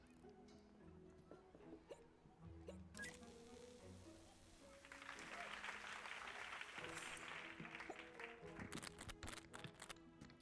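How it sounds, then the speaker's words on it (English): Clapping in the video game Supraworld rises midway into a sustained, fairly quiet crackle of applause, layered over game tones and faint background sounds. "the clapping makes it worse"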